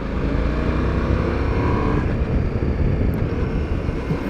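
A 2021 Ducati Multistrada V4 motorcycle engine pulls hard under acceleration on the road, a loud, continuous engine roar mixed with wind noise, close to the rider and with no talk.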